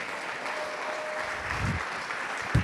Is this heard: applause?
yes